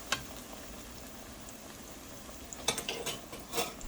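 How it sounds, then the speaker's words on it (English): Ripe plantain frying in oil, a soft steady sizzle with scattered crackles, then clinking utensil stirring and scraping near the end. "Ripe plantain frying."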